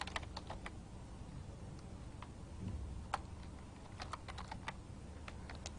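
Computer keyboard typing, with a steady scatter of soft, quick key clicks in irregular bursts over a quiet room hum and no talking.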